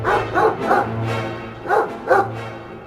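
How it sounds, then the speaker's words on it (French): Hunters' dogs bark in short bursts, a few quick yips in two clusters with brief pauses between, fairly close and loud. "Et ils avaient des chiens."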